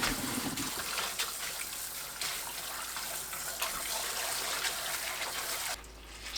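Blanched chard being rinsed in cold water, with a steady, close rush of running water and splashing that continues throughout, briefly easing near the end.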